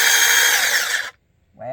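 Tietoc handheld power saw runs with a loud, close whine for about a second, cuts off to silence, then starts up again briefly.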